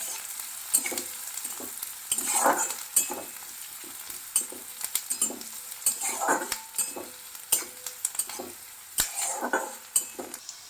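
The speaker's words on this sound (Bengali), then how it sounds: "পেঁয়াজটা এখন ভেজে নেব একটু হালকা করে।" Chopped onion fries lightly with whole cumin in a pan, a soft sizzle broken by repeated scraping and stirring strokes and a few sharp clinks of a utensil against the pan, close and without voices.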